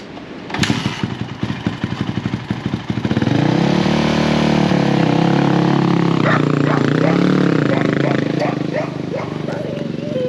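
A 1999 Yamaha YZ400F dirt bike, revived after eight years of sitting, first sputters in uneven pops, then catches and runs as a loud, steady engine drone up close, with some speech mixed in.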